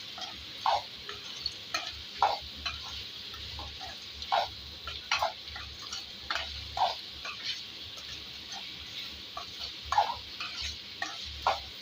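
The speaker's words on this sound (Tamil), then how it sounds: "கிண்டி விட்டுட்டு தேவையான அளவு நம்ம உப்பு ஆட் பண்ணிக்கணும்" Snake gourd is stirred in a pan, with a spoon scraping and tapping in irregular strokes every second or so over a faint background sizzle.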